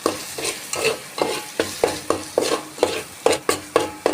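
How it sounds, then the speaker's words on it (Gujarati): Spices, turmeric and salt frying in oil in a pan for a Kathiyawadi potato gravy, stirred with a spoon in a brisk, regular rhythm of close scrapes over a constant sizzle. "હવે આપણે આને હલાવીને મિક્સ કરી દઈશું"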